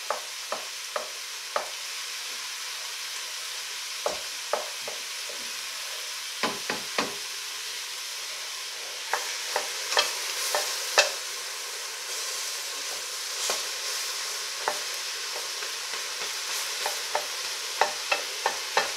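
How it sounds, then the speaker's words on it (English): Ground beef is broken into chunks and browned in a pan for chili, giving a steady sizzle and hiss. Repeated close scraping clicks from a utensil punctuate it at an uneven rhythm, with no talking. "We're just going to break this up nice and good into little chunks and brown it off."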